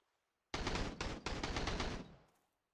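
A rapid automatic burst of gunfire in the survival game Sunkenland, loud and close, rattles off in quick repeated shots for about one and a half seconds after silence, then cuts off.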